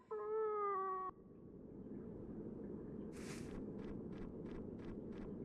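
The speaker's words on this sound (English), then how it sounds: "It's the same cat from before." A cat in the video game Fragile Dreams: Farewell Ruins of the Moon gives one clear, drawn-out meow, followed by a low ambient rumble and a series of soft rhythmic ticks.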